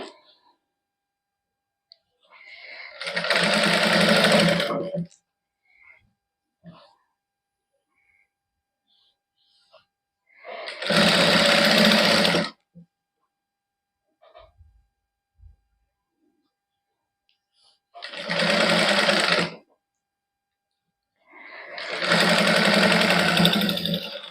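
A sewing machine stitches a sleeve of a printed suit with a plain fabric ribbon in four separate bursts of loud, close whirring, each a second or two long, with quiet pauses between and no speech.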